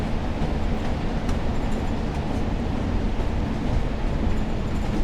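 Simulated Provincial Class 142 Pacer diesel railbus running toward Ormskirk, a steady rumbling roll with faint rhythmic clicks of wheels over rail joints, no talking.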